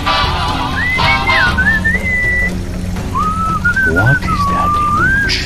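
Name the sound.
chanting and whistling music from video game Sam & Max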